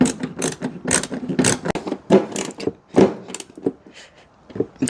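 Screws being driven down by hand into the plastic inserts of a Hyundai Santa Fe fuel pump assembly make a close series of short, uneven ratcheting clicks and mechanical ticks, coming in quick irregular bursts without speech.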